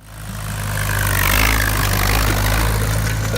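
An Allis Chalmers WD-45 farm tractor idles with a steady, loud low-pitched engine rumble that swells in at the start and holds evenly throughout.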